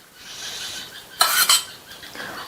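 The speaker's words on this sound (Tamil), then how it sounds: "தேங்காய் பால் சேர்த்துட்டு நல்லா ஒரு தடவை இந்த மாதிரி ஒன்று போல மிக்ஸ் பண்ணி விட்டுட்டு" A spoon stirs soaked poha and coconut milk in a metal vessel, giving faint wet mixing with a louder burst of scraping clanks in the middle, no voices.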